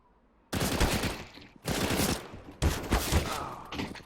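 Three bursts of rapid CZ pistol fire in the video game CS:GO, each a dense, loud volley lasting about a second, separated by brief pauses.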